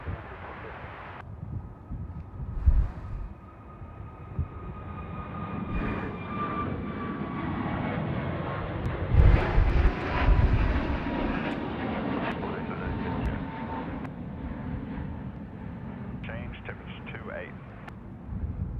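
A passenger airliner comes in to land on runway 34 right at Sydney Airport in gusty wind, its engine roar swelling and holding loud for the whole stretch, with wind buffeting the microphone and faint voices underneath.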